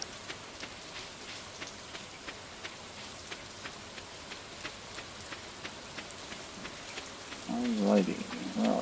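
Rain falls in the Stardew Valley video game as a steady soft patter with regular drip-like ticks, and a voice briefly talks over it near the end.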